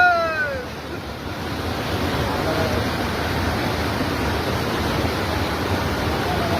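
Floodwater after a cloudburst pours over a bridge in heavy rain with a constant loud rushing roar, steady and close, with a few faint voices in the background.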